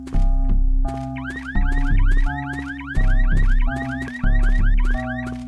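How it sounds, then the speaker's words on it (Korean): A car alarm blares in a cute-looking but gory horror video game, loud and close, cycling through repeated warbling tones with rising chirps in steady bursts. "경보기 꺼!"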